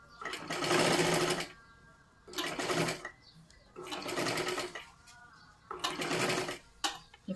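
A sewing machine runs in four distinct bursts of rapid whirring stitches while sewing a size 37 three-piece princess-cut blouse, each run lasting about a second, separated by short pauses and light handling noises.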